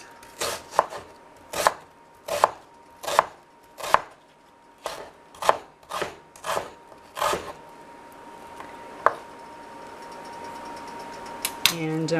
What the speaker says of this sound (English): I just kind of cut onion like this.